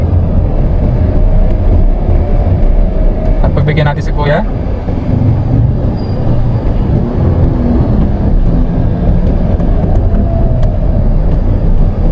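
A manual car creeps slowly in traffic with the clutch held at its biting point, giving a low, steady engine drone and road rumble throughout, while someone talks over it.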